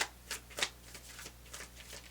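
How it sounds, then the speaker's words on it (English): Tarot cards being shuffled by hand, heard as a quick series of crisp papery riffles and flicks in an irregular rhythm, close and fairly soft, with no talking. "Sometimes they get hard to shuffle."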